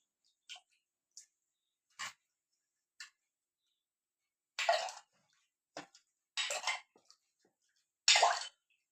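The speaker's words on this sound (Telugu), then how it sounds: "తర్వాత ఇలా నీళ్ళు పోసైతే రోల్ రోలు మొత్తం కడుక్కొనేసి" Water is poured over a stone grinding slab to rinse out ground raw chickpea and black-eyed pea paste: a string of short, separate splashes and trickles, with a few longer, fuller pours near the end.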